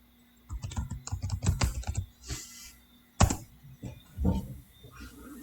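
Someone types on a computer keyboard, with bursts of quick, close keystrokes, a short gap, and then a few more separate key taps.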